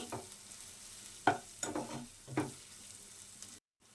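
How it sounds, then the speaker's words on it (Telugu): Garam masala and turmeric frying in a pan for chicken, with soft sizzling and a few distinct stirring scrapes in bursts, fairly quiet and close, no talking. "పావు టీ స్పూన్ పసుపు, ఈ రెండింటిని కూడా 2 మినిట్స్ వేయించాలి."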